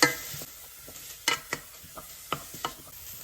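Minced onion cooking in olive oil in a small pot over medium-low heat, a faint, quiet sizzle broken by a handful of soft, irregular scrapes and taps as a spoon stirs it.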